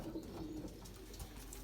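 A Belgian racing pigeon cooing softly nearby during chip banding in a loft, a short low coo over steady background noise.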